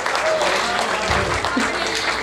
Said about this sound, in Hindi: एक बार सांवरिया जी के नाम ताली हो जाए।